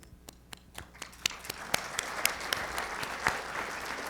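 Audience applause at a winter farming conference keynote, with a few distinct early claps building into steady, full clapping from a sizeable crowd.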